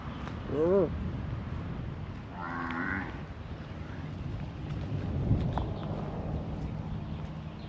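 A cow on grazing land gives a brief moo near the start, followed by another lower call, over steady outdoor rumble and wind-like background noise.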